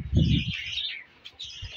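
Pet parrots chirp in quick, close bright calls with a few low coo-like sounds near the start, set against a quiet room.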